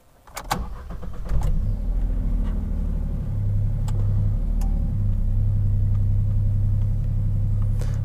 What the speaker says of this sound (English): just going to start the engine for the first time